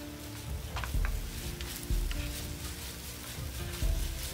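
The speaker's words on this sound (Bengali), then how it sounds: "এরপরে এটাকে একটু নাড়াচাড়া করে ভাজা ভাজা করে দিতে হবে।" A spiced mixture with tomato sauce sizzles steadily in a pan while being stir-fried, with a continuous crackling hiss broken by a few soft scraping and stirring knocks.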